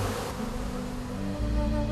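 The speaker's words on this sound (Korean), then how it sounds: "윙윙거리는 소리가 가득하다" Honeybees buzz densely around a migratory beekeeper's hives, a steady close droning hum that swells slightly toward the end.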